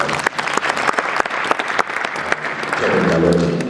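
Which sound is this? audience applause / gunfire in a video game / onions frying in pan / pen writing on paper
audience applause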